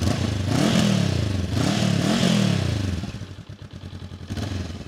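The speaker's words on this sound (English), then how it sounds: "Start the bike up, see if we can get some noise from the exhaust." A 2024 Honda NX500 adventure motorcycle engine rumbles and revs in rising, falling swells, then settles into a lumpy idle with a throbbing exhaust note.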